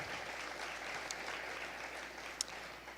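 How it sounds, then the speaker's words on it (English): A church audience gives a steady round of applause at a tapas gathering, a dense, even wash of many hands clapping that holds at the same level throughout with no voices over it. "I think that deserves a round of applause"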